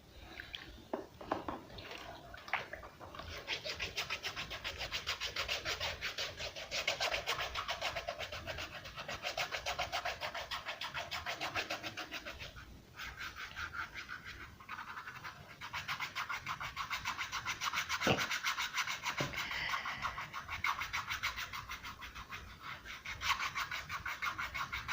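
A handheld foot scraper rasps dead skin off the sole of a foot, a continuous close, dry scratching with rhythmic strokes that runs for the whole stretch, pausing briefly now and then.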